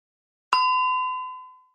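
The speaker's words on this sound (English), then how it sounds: "If the bell sounds, tell your student to stop reading and to click the last word they read." A reading software's timer bell sounds a single bright electronic ding with a long, ringing decay, clear and alone.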